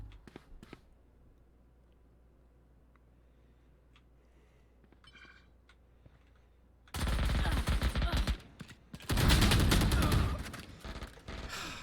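Shotgun fire in the video game Valorant: after a quiet stretch with faint clicks, two loud bursts of rapid gunfire break in, close and dense, separated by a short pause.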